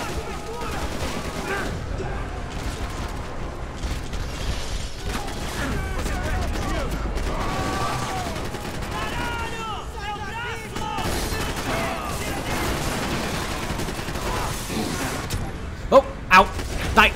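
Gunfire in the Max Payne 3 shooter game during an office shootout, a steady clatter of shots and fusillades at moderate loudness, mixed with game music and voices, ending with a few sharp louder bangs.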